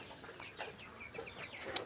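Broiler chickens on a poultry farm, about 21 days old, cluck and chirp in a soft, scattered run of short calls at middle distance, faint and without voices.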